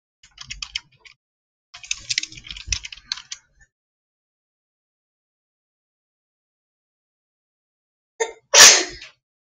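A single loud sneeze from a person during a home yoga stretching session, sharp and close, following a stretch of quiet after some soft rustling and tapping noises.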